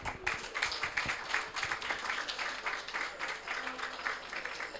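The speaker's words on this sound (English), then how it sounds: "join me in a round of applause to our panelists" Applause for a panel at a COP27 climate conference session, steady dense clapping from a seated audience lasting the whole stretch, fairly distant and roomy.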